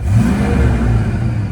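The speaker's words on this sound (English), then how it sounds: "now see if it stutters when I push the accelerator." A cheap Ford Fox Body car's engine, being checked for stuttering, revs on the accelerator, giving a loud, close, steady low-pitched growl that holds through the short clip.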